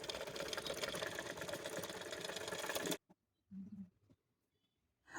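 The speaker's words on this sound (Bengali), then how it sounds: "এখন গলা কাটিংয়ের উপরেও আরেকটি সেলাই দিয়ে দিচ্ছি" A sewing machine stitches a blouse neckline in a fast, close, rattling run for about three seconds, then stops and leaves only a few faint scattered sounds.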